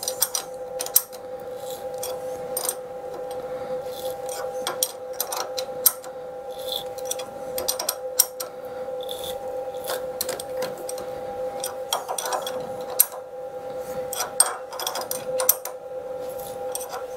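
A large threading tap turned by a pair of spanners into a valve chest stud hole on a 7.25-inch gauge steam locomotive gives a steady mechanical grind with repeated ratcheting clicks and scrapes, close and moderately loud.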